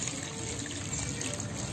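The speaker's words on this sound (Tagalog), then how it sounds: "Then, lagyan natin yung ating tubig." Tap water poured into a mixture of eggs and first class flour for dough, a steady close splashing trickle running without pause.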